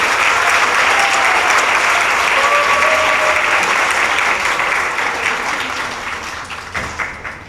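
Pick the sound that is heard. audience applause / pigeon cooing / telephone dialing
audience applause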